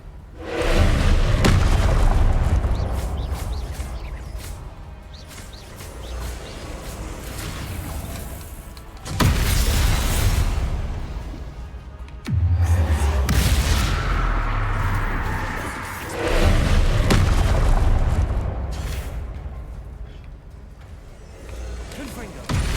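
Confringo blasting spell explosions in Hogwarts Legacy: several heavy, booming blasts a few seconds apart, each swelling and fading into a rumbling tail, with spoken voices mixed in between the bursts.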